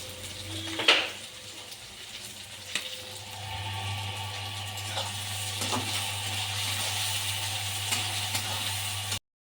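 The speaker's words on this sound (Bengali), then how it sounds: "লবণ দিয়ে দিয়েছি একটু তাড়াতাড়ি পেঁয়াজ ভাজা হয়ে যাবে" Chopped onions fry with salt in a pan for a chicken curry, giving a steady, close sizzle throughout, with a few sharp clinks of a utensil against the pan near the start.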